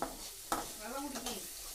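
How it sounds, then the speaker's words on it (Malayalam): Potatoes seasoned with meat masala, chicken masala and salt frying in a pan, a brief steady sizzle with a couple of sharp stirring scrapes and a faint voice-like murmur underneath. "ഉരുളക്കിഴങ്ങിൽ കുറച്ച് മീറ്റ് മസാല ചിക്കൻ മസാല ഇടുക ഉപ്പ് ഇടുക വറക്കുക"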